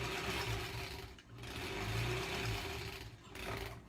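Sewing machine stitching granny-square quilt squares across nested seam folds, a steady low mechanical whir running continuously with a short dip, quiet and with no talk.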